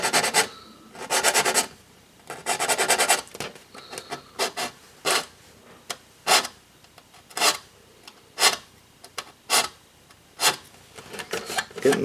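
Sanding sticks rasp against small plastic model kit parts for an MPC ERTL Millennium Falcon, a series of close, dry scraping strokes in uneven bursts, some longer and steady, others short and separated by brief pauses.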